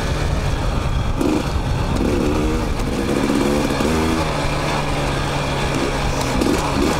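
Several dirt bikes riding in a tight group across open western desert terrain, a continuous loud engine drone with rising and falling revs from bikes ahead, close and unbroken, with wind buffeting.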